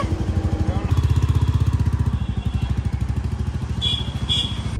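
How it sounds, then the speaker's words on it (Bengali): A Royal Enfield Meteor 350 engine putters close by with a steady, rapid pulsing rhythm, revving slightly before settling, with a couple of faint high chirps near the end. "ওরা বাইকে করে বেরিয়ে গেল"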